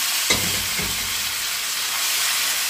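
Beef goes back into hot oil with onions, giving a sharp thump as it hits the pan, then a steady loud sizzle and hiss with no talk.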